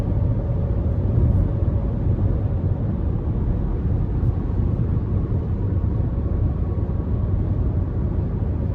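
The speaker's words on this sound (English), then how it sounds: "Road noise not bad. I can still hear it a little bit" Road noise inside a Cadillac XT4 cabin while driving on smaller 18-inch wheels, a steady low rumble and muted tire roar that stays moderate and even throughout.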